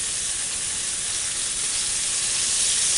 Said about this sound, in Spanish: Se le pone grasita para que se vaya friendo. ¿Ok? Lo vamos a freír un ratito el pollo